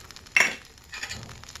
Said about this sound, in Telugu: ప్యాన్ పెట్టుకొని